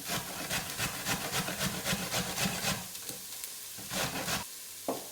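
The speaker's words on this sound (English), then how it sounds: "I'm going to grate." Peeled carrots grated by hand, a steady run of rhythmic rasping strokes close up that slows and thins into a few scattered scrapes toward the end, with no talking.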